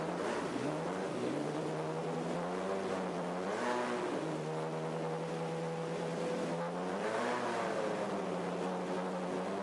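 Nissan GT-R race car engine revving loudly with a raw mechanical tone, rising and falling in pitch across several throttle blips, continuous and close with no voices.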